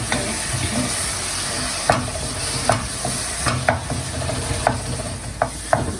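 Crushed cumin and finely chopped green chillies frying in a pan for dhaba-style aloo keema: a constant close sizzle, punctuated by sharp clicks and scrapes of stirring every half second or so, with no speech.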